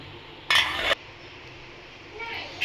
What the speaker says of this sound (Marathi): आता आपण हे व्यवस्थित झाकून ठेवू आणि 2 मिनिटं याची उकळी काढूया।